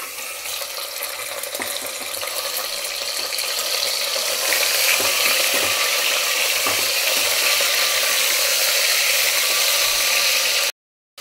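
Mutton pieces hitting a hot pan with bay leaf and cumin, crackling and sizzling steadily, growing louder after a few seconds and staying dense and close until an abrupt stop; no talk.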